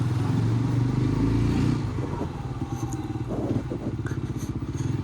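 TVS Apache RTR 160 4V motorcycle rolling in third gear at low speed over a speed breaker, its engine loud and steady at first, then a lower, uneven chugging pulse as it lugs along, with road and wind noise throughout and no talk.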